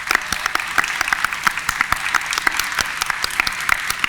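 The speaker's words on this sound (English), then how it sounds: "I would ask the graduates to join me in a round of applause for the family members, friends, and faculty who have helped them reach this milestone." Graduates at a workforce and economic development achievement ceremony applaud family, friends and faculty; close, energetic clapping with distinct individual claps standing out over a steady wash of applause throughout.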